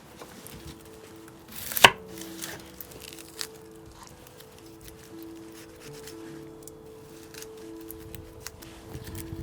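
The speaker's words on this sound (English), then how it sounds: "So you see some small amount of onions being chopped" Onions being chopped on a board for Somali rice, a loud knife strike near the start followed by lighter, irregular taps spread across the rest, close and otherwise quiet.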